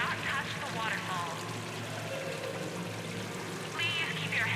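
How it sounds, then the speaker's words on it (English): An indoor waterfall in the video game Mass Effect 3 pours and splashes in a constant rushing wash, with game voices faintly over it. "Please do not touch the waterfall."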